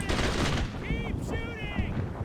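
Bursts of gunfire from the World War II shooter Brothers in Arms fill the clip, dense and loud, with voices shouting over the shots partway through.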